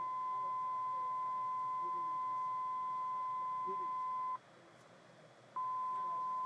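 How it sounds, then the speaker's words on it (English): Test tones from a Garmin G1000 flight deck audio panel: a steady pure beep holds for about four seconds, drops out briefly, then resumes, heard alone at low level. "You can press either start single tones or continuous tones."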